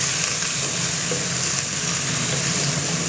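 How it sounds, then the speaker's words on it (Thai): Blanched featherback fish meat hits a hot wok with chili and garlic and is stir-fried, giving a loud, dense, continuous sizzle without any talk. "เนื้อปลากายที่เราลวกไว้เมื่อกี้นะครับเอาลงไปผัดเลย"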